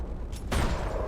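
A single heavy gunshot booms from a first-person video game amid a dense, noisy in-game background.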